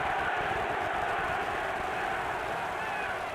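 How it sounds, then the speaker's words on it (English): A boxing arena crowd chanting the fighter's name Pavlik, a dense, roaring wash of many voices, steady and loud throughout. "Crowd begins to chant, Pavlik"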